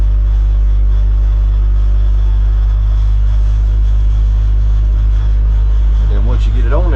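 A bulldozer is sideloaded onto a trailer, its diesel engine a loud, deep, constant rumble heard from the operator's seat, with a brief rise in engine note near the end and someone talking over it.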